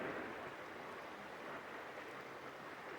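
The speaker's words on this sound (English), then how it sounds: "the current is fast, the water is really rushing" Potts Creek runs fast and high after recent rains, a dense, continuous rush of water that stays even and unbroken throughout, with no voices.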